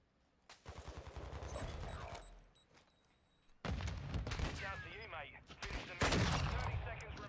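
Gunfire in an online shooter game, two bursts of loud rapid shots close by with booming echoes, separated by a short lull.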